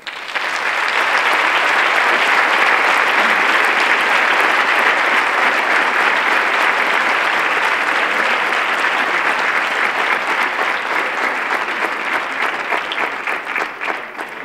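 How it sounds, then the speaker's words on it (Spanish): An audience applauds the band's 150th anniversary at a Santa Cecilia concert with the Pozo Blanco symphonic band, a dense, steady roar of clapping that fills the hall for the whole stretch and eases slightly toward the end. "un aplauso para estos 150 años de banda"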